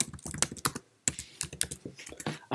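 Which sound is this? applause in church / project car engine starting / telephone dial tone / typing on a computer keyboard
typing on a computer keyboard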